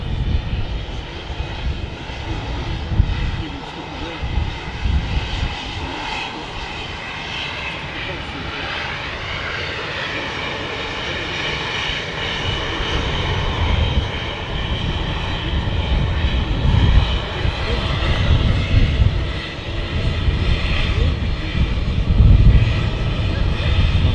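Ryanair jet airliner engines at Manchester Airport give a loud, continuous roar that swells and rises steadily, a broad whine riding over a rumbling low end with no break.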